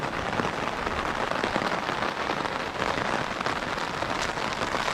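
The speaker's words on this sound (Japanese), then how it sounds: "まあ雨音をね聞きながら車中泊もいいんで" Heavy rain drums steadily on a camper van at night during an overnight car-camping stay, a dense, even patter of drops on the vehicle with no voices heard.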